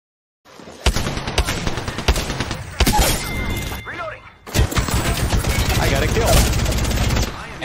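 Gunfire in the video game Apex Legends, with loud bursts of rapid automatic shots and single cracks filling nearly the whole stretch, a short lull near the middle, and a player's voice talking underneath.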